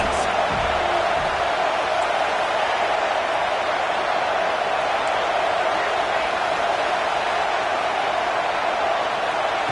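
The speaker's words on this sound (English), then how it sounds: "Listen to this crowd just shaking the girders of this place trying to help their defense." A packed college football stadium crowd at a Notre Dame versus USC game roars continuously in a dense, steady wash of noise to rally the defense, with no break in the din.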